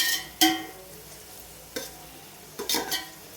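Onions sautéing for chicken biryani, with a low background sizzle broken by a few sharp stirring scrapes and clatters of a utensil against the pot, close by.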